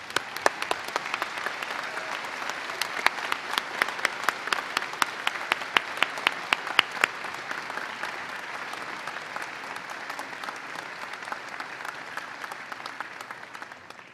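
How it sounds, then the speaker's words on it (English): Sustained applause from a large crowd at a university spring convocation, dense crisp clapping with strong individual claps standing out, holding steady and tapering slightly toward the end. "I think we have a lot of pent-up applause,"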